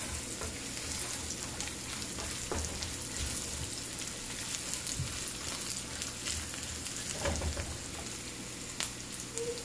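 Roasted peanuts and salt being stirred in a pan, a soft steady sizzle and hiss with scattered scraping and tapping strokes, fairly faint and without talk.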